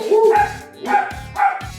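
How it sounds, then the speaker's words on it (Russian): Several dogs bark at a laptop camera set up for streaming in a home, giving three loud, close bursts of barking in an even rhythm with brief pauses between them. "Они смотрят в камеру, там стоит ноутбук для трансляции, и они гавкают на него."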